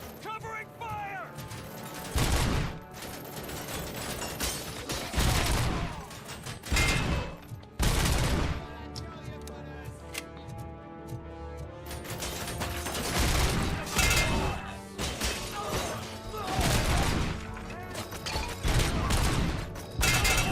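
Gunfire in the PC game RoboCop Rogue City: loud, repeated bursts and rapid automatic volleys that pause briefly and resume, with mechanical clatter and voices mixed in.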